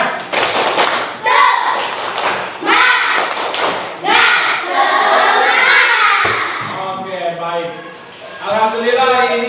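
Schoolchildren in an Islamic religious education class perform a rhythmic spirit clap, loud patterned claps and thumps in bursts mixed with children's chanting voices close by.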